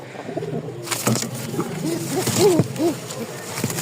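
A pair of pigeons, male and female, coo close by in low, rolling calls from inside a cage, several overlapping phrases over a few seconds.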